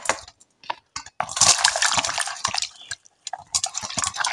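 Pointed gourds (potol) being washed by hand in water, with close splashing, swishing and clattering against a bowl in irregular bursts separated by short quiet gaps.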